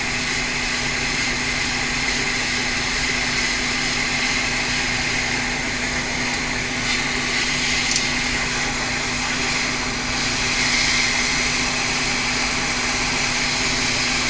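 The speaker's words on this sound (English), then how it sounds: "So we're going to heat up the chip, or just heat up the edges." A hot air rework tool heats the edges of the GPU chip on an early-2011 15-inch MacBook Pro 820-2915 logic board, giving a steady, even blowing whoosh with a faint constant hum and no talk.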